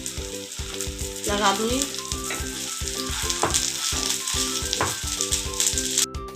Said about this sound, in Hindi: इसको मैं ऑयल में डाल दूँगी, तवे पे डाल दूँगी।